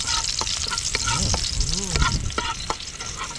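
Garlic sautéing in a pan until golden brown, steady sizzle and crackle with stirring scrapes, while voices talk over the frying.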